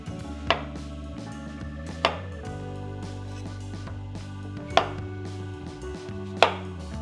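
A kitchen knife chops straight down onto a cutting board in four sharp, well-spaced strikes, close and clear over a low steady background hum.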